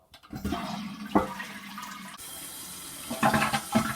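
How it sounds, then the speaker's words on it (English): A newly repaired household toilet flushes with a loud, close rush of water, then the tank audibly refills with a steady hiss and gurgles, with a couple of knocking bumps near the end. "Okay, you heard that flush. The water is filling up and it shut off."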